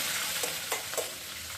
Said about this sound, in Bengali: পাঁচফোড়নটা ফুটে উঠছে, এবার গ্রেট করা আদাটা ফেলছি